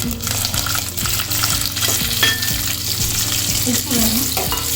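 Small shallots sizzle in hot oil with curry leaves and vadagam for a Tamil salted fish kuzhambu, a loud steady crackle with rhythmic scraping stir strokes of a spoon against the pan throughout.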